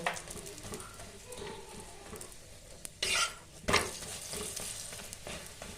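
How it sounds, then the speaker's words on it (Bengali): Methi paratha fries in oil on a pan with a steady sizzle. Utensils scrape and clatter now and then, with two louder bursts partway through. "এবার আমি পরপর পরোটাটা ভেজে নেব।"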